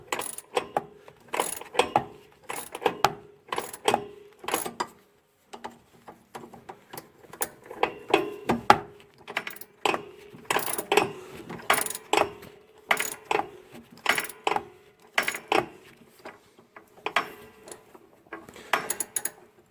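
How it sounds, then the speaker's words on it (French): Socket ratchet wrench turning beside a car jack, bursts of quick clicking pawl ticks with short pauses between strokes, close and clear with no talk. "vous essayez de passer entre le cric et votre douille et le cliquet"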